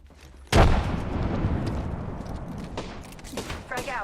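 A frag grenade detonates in a video game with a sudden loud boom, followed by a rumbling, decaying tail and a few sharper crackles and pops, with a voice speaking over it.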